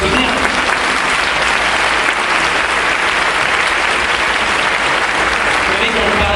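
Audience applause at a church sermon in Lyon, steady, dense clapping from a sizeable crowd filling the whole stretch without letting up.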